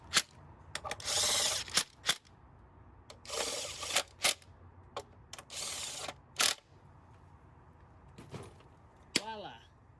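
Ratcheting wrench clicks and short tool bursts while tightening spark plugs on a 2010 four-cylinder Honda Accord, close and intermittent, with brief speech between.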